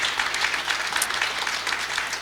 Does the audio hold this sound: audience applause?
yes